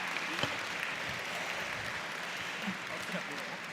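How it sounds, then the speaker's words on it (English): Crowd at an Indigenous graduation celebration clapping for the drummer, a soft, steady patter of applause heard from a distance throughout, with faint voices mixed in. "If everybody could give a big round of applause for Doug Morin."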